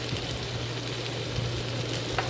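Potatoes frying in a pan for a Bengali lentil-dumpling and potato curry give a steady, soft sizzle with light crackle throughout, close and even in level, with no talking.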